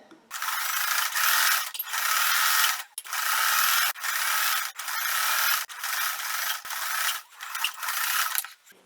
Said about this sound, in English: I'm going to sew down the sides